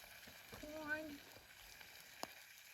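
Corn, franks and beans cooking over a campfire give off a faint, soft sizzle, quiet and crackly, with a few small knocks and clicks, while a brief tonal sound rises near the start.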